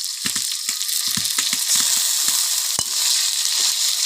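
Garlic and ginger paste sputters in a hot pan, a loud steady sizzle broken by a series of sharp spatula taps and scrapes, close-up and without any voices.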